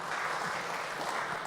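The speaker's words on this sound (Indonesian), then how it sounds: "Kita tepuk bisa tangan dulu" An audience at a gathering on cooperatives breaks into steady, dense applause, many hands clapping together at an even level without pause.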